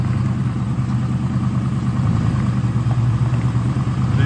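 A 1994 Impala SS engine idles steadily with a low, even rumble that carries through the whole stretch, close and fairly loud with no talk.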